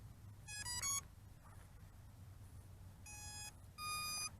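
Electronic speed controllers of an MJX Bugs 16 Pro quadcopter play their startup tones on power-up: a few short clusters of shrill, melodic beeps, close and clear over quiet background noise.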